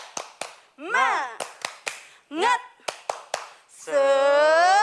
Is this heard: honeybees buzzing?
no